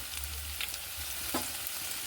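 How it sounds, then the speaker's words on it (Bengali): Potatoes fry in hot oil with ginger paste added for a vegetarian aloo dum, a close steady sizzle with brief stirring scrapes and no talking. "আলুটা ভাজা হয়ে গেছে, এবার দিয়ে দেবো আদা বাটা।"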